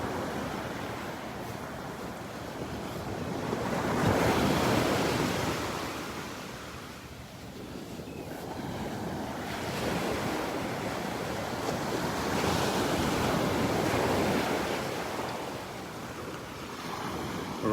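Ocean waves roll onto a beach in Naples, Florida, between the pier and an inlet on a Saturday morning. Breakers surge and wash back in slow, loud swells under steady wind noise, with no voices.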